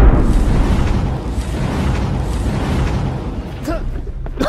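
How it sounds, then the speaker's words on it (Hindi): A bomb explosion sound effect in a comedy skit: a heavy, sustained roaring blast rumble filling the whole stretch, loud and close, with a brief voice near the end. "ये जेब में से क्या निकल, बॉम्ब।"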